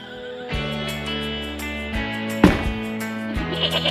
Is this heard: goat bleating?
yes